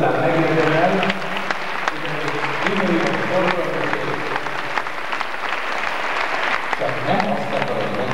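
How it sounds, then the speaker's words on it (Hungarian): A hall audience claps through a children's home awards event, the applause busy and continuous with voices talking over it at moments. "akkor egy nagy tapsot igazán megérdemel"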